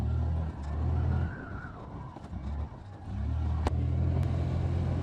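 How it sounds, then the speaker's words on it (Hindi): Hero Destini 110cc scooter ridden on the road, a steady low engine hum with rushing wind noise that dips briefly midway before resuming, no speech. "अब मैं इनको उतार देता हूं और ख़ुद चलाकर देखता हूं कि ये स्कूटर कैसा है"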